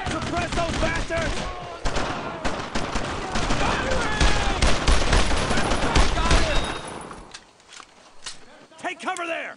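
Loud, sustained gunfire from the WWII shooter Brothers in Arms: Road to Hill 30, with dense overlapping volleys and rapid bursts rolling on for about seven seconds, then easing to sparser shots near the end.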